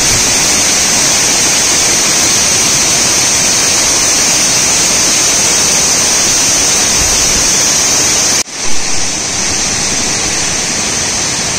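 A large, powerful waterfall in the Konkan region roars as a loud, steady broadband rush, holding constant for about eight seconds before cutting abruptly to a quieter, muffled hiss.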